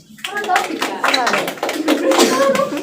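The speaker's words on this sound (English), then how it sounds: "Give applause to your friend." Classmates clap for a student in a micro teaching practice session, a short burst of close, uneven hand claps with children's voices talking over it.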